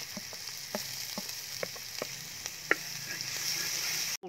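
A ground paste of ginger, garlic and green chili sizzles in a pan of onions for bamboo biriyani, a steady close frying hiss with scattered soft taps and pops and no talk.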